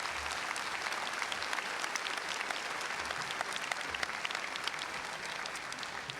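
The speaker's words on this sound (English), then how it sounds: "Let's give them a big round of applause." Steady applause from a large crowd at a high school graduation ceremony for the McNary High School class of 2022, dense clapping filling the hall continuously without a break and with no talking.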